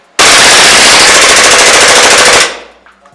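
A WE 18C gas blowback airsoft pistol fires a single loud, rapid full-auto burst lasting about two seconds, close to the listener, and the sound dies away quickly afterward.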